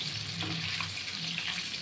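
Paneer cubes fry in a wok, giving a soft, steady sizzle with faint turning and stirring sounds, fairly quiet and continuous throughout.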